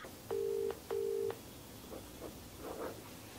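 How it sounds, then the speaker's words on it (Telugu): Two telephone keypad tones are dialed in a short sequence, clean and steady, followed by faint quiet background rustle. "నేను కాల్ చేస్తాను, ఒకసారి లైన్ లో ఉండండి."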